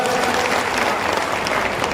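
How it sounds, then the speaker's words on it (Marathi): Dense audience applause fills a community gathering, a steady loud wash of many hands clapping at once, sustained without a break for the whole moment. "शंभर टक्के लोकांची तयारी आहे टाळ्या वाजून"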